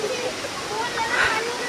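Agaya Gangai waterfall in the Kolli Hills pours in a steady broadband rush, close and continuous, with no break across the short moment.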